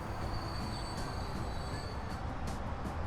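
A train rolls along in the Transport Fever game, a steady low rumble of wheels on rail with faint high squeals and clicks, continuous and close, with no talk.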